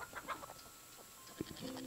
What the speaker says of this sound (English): Pet the chickens.